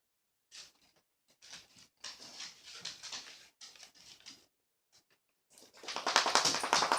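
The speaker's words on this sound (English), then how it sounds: "My dog's chewing on my foot." A dog chews on a person's foot and whimpers indoors during a craft session, giving soft intermittent whines and patters up close, ending in a louder, denser burst of scuffling.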